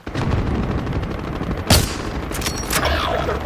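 Bursts of automatic gunfire in the video game Warzone, loud and close, with sharp cracks standing out over steady rumbling battle noise.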